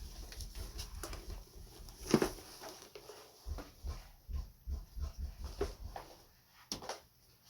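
A guard dog whimpers and snuffles in a quiet room, giving a run of short, soft whines and breathy pulses with a brief louder yelp near the start and no one talking.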